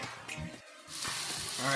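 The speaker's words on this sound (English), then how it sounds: "now we got them in here frying for like 4 or 5 minutes on each side" Pork chops coated in a dry pep rub fry in a pan with a loud, steady sizzle and crackle that swells toward the end.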